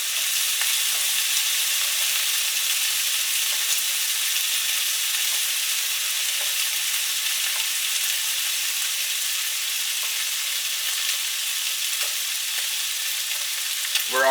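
Bacon sizzles in a cast iron frying pan with a steady, bright, crackling hiss and occasional small pops, loud and close, with no talking.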